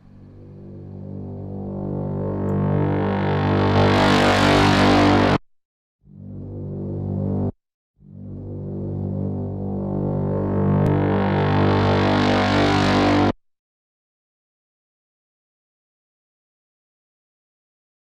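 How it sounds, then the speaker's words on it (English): A harsh, distorted synth tone swells and grows brighter, cuts out briefly, returns in a short burst and a longer swell, then stops dead into silence. "What happens if we distort this?"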